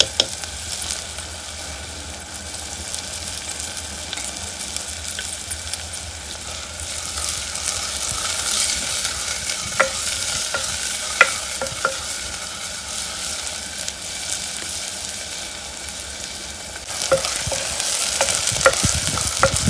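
Garlic and chili paste hits ivy gourd frying in a pan in a village kitchen, giving a continuous crackling sizzle with scattered stirring clinks that grows louder and fuller toward the end, with no talk.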